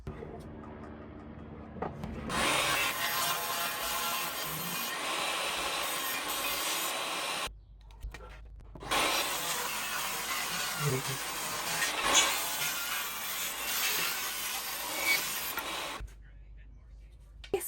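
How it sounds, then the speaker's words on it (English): Wood slats for a modern planter being sawn, a steady rasping saw in two long runs with a pause between, fairly quiet, no talking. "So now I got all my slats cut out."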